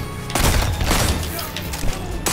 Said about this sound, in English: He's using a 120 hand cannon, flinching the heck out of me.